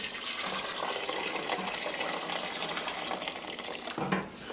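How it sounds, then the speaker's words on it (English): Steady splashing boiling water being poured from a kettle, a continuous rushing stream that fills the clip and eases off near the end. "boiling water out of the kettle"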